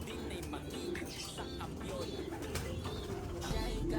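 Pigeon cooing in soft repeated low calls, faint and under background noise and murmured talk, with a few chirps.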